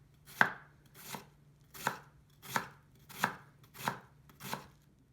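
A knife chops food on a cutting board for nikudango with seven distinct, evenly spaced thuds. The strokes are close and crisp in an otherwise quiet kitchen.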